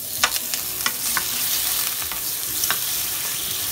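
Minced garlic and bacon frying in hot oil in a preheated wok, a loud steady sizzle punctuated by several sharp clacks and scrapes of a spatula, close up, with no talking.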